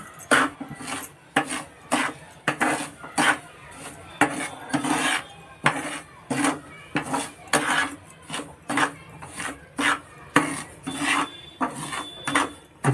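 Ingredients for jackfruit sweets are dry roasted in a pan, a spatula scraping and rasping in steady repeated strokes, close and fairly loud, with no one talking.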